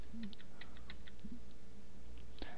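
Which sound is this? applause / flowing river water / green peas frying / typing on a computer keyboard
typing on a computer keyboard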